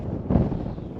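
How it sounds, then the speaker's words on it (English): Low rumbling wind buffeting a microphone while fishing, a brief louder gust in the middle, no voices. "Well, it is windy."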